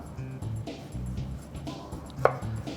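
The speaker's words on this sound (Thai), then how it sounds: "สำหรับซูกินี่นะครับเ ราจะหั่นให้เป็นเส้นๆลักษณะนี้ครับ" A kitchen knife cutting zucchini into thin strips on a board in a cooking show, a run of soft, steady chopping taps with a brief sharper knock.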